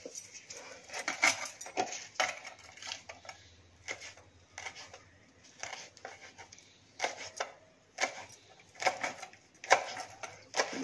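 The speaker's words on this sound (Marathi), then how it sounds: "असं प्रथम देठ कट करून काढायचं आणि देठे सुद्धा बारीक चिरून घ्यायची आणि पाने सुद्धा बारीक चिरायची" A knife chops taro leaves and stalks finely on a board, in irregular bursts of quick, sharp taps separated by short pauses, close and crisp against a quiet kitchen background.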